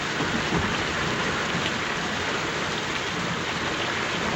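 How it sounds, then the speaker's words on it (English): Heavy rain pours down steadily in a scene from the 1932 film Rain, a dense, even hiss of falling water with no pauses or voices. "the rain sounds really great"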